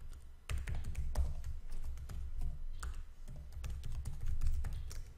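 Someone types an email address on a computer keyboard, producing a quick, uneven run of soft key taps and clicks heard up close with no speech.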